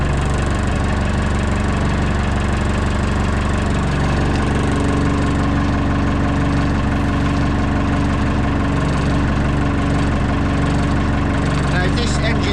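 A Bobcat E10Z micro digger's engine idles steadily and loudly throughout, a constant low mechanical drone with a slight knocking texture.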